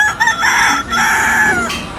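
A person imitates a rooster's crow with their voice, a loud strained cry that rises and holds for about two seconds, breaking briefly partway through, with no other talk.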